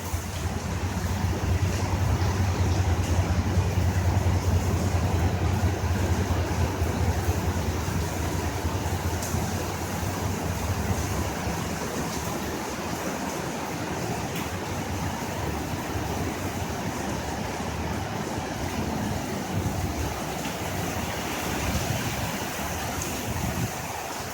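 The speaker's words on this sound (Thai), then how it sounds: "ดังมาก ฝนตกดังมาก มีเสียงฝนตกไหมคะ" Steady heavy rain in Samsen, Bangkok, with a constant broadband roar, wind rushing through it, continuous and loud with no voices.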